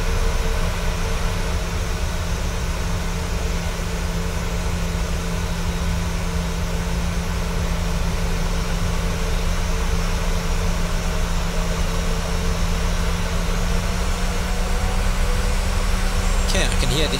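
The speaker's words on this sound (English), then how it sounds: "I can hear the engines start to idle up a little bit" Airliner engines drone steadily in flight from Orlando toward New Orleans, a constant loud cabin hum with a low tonal whine and broad airflow hiss, unbroken throughout.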